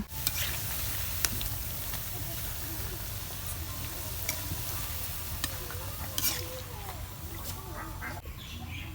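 Onion fritters in flour batter fry in soybean oil with a soft, even hiss and occasional pops, heard fairly quietly, with faint bird-like calls in the background.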